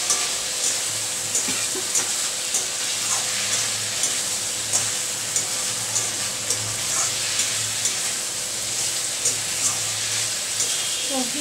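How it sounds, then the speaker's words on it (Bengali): Vegetables fry in a pan with a steady, close sizzling hiss that runs throughout, broken by light irregular clicks of stirring. "সবজিটাকে ভালো মতন ভেজে নেব।"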